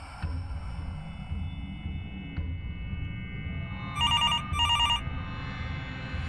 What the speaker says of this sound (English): A phone in a cluttered corner of a lonely man's living room sounded out for his recognition.